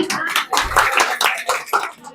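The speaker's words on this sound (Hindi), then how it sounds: "आपके लिए तालियां" Outdoor community gathering with a street play, where a small group claps hands in uneven bursts, fairly close and loud, while voices talk over the clapping.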